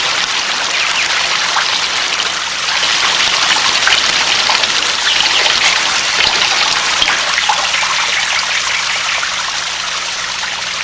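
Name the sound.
water pouring out of bottle's small holes like a shower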